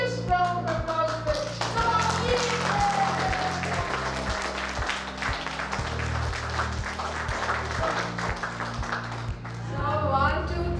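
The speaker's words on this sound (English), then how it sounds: "So this calls for the biggest round of applause" A crowd at a school innovation and creativity fest claps continuously over loud, pulsing background music, with voices talking and calling out amid the applause.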